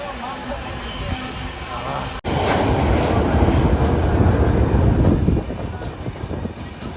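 The 13149 Kanchankanya Express from Sealdah to Siliguri rumbles along after a sharp click, a steady loud roar of wheels and carriage filling the air, with voices faintly audible beneath.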